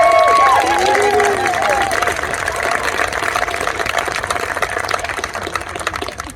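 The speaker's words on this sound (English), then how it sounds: "Let's give them a big round of applause." Outdoor crowd at a festival opening ceremony cheers and claps for a high school marching band, voices whooping over the start before the sound settles into steady, moderately loud applause that tapers off.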